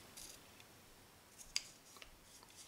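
Scissors trimming the edge of a paper circle for a galaxy-effect card, a few faint, brief snips with one sharper cut standing out in a quiet room.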